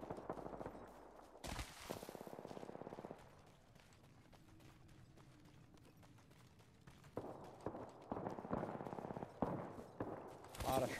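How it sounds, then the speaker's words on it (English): Gunfire in Apex Legends, with rapid repeated shots in loud bursts at the start and again toward the end, separated by a quieter stretch of game noise. "A lot of shots"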